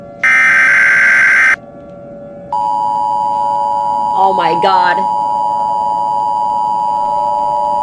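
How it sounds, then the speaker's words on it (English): Emergency Alert System tones in an animated alert scenario: a loud buzzing burst of data tones, a short pause, then a steady, piercing attention tone. A voice briefly exclaims over the tone. "Another global alert emergency action notification."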